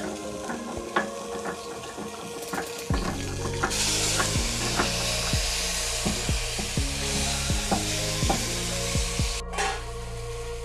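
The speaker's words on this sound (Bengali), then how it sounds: "আদা বাটা লঙ্কা বাটাটা খুব ভালোভাবে ভাজা হয়ে গেছে" Ground ginger and green chili paste fries in a pan with bay leaf for a doi potol dish, giving a loud continuous sizzle with repeated scraping strokes of a spatula stirring throughout.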